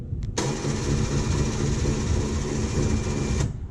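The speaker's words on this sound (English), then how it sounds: "Now we can go ahead and lower the trailer and get it into the loading position." A Futura lowering car-hauler trailer is lowered by remote, giving a steady mechanical hum of its motor that starts abruptly and runs about three seconds before cutting off, close by with no speech.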